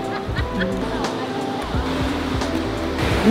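Sea waves wash over a beach on the São Paulo coast at Ubatuba, Brazil, a loud, steady rushing surge heard close, with people talking over it.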